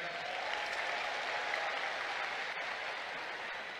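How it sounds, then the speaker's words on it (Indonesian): An audience at a political party anniversary gathering in Indonesia claps steadily for about four seconds. The applause is fairly faint and even, like a large hall heard from a distance. "boleh beri tepuk tangan kepada mereka"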